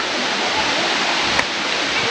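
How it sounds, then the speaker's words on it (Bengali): Pradhanpat waterfall, with water falling from above, makes a dense, continuous rushing roar. The hiss stays steady and fairly loud without a break. "ওই দেখো প্রপাত, ওই যে পড়ছে জল ওপর থেকে।"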